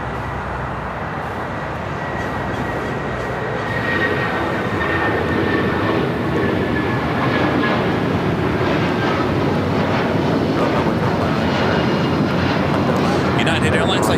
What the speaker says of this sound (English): United Airlines Flight 1331 heading to Newark, a 757-200